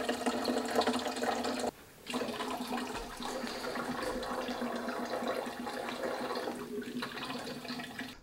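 Coolant draining from a GPU water-cooling loop into a distilled water container, a continuous splashing, gurgling pour with one brief pause, close and fairly loud.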